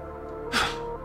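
A single sharp sneeze from a character in the Lost Judgment video game on PC, a brief burst over a steady background music bed.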